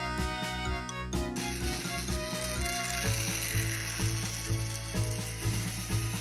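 A Plarail toy gyro monorail with a normal motor and AA batteries runs along its rail with a continuous rattling, ratcheting mechanical whir and regular clicking from its gears, fairly faint and steady throughout.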